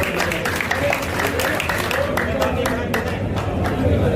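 A crowd at a public felicitation event honouring a cabinet minister in Nokha breaks into sustained applause, a thick, continuous wash of clapping with steady loudness across the whole stretch.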